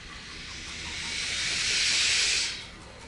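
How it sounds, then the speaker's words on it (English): Breathy wind-instrument air sounds swell in a steady rushing hiss for about two and a half seconds, building to a peak before dropping off suddenly, during a contemporary ensemble rehearsal of a piece with key clicks; no one speaks. "Last time, air sounds and key clicks."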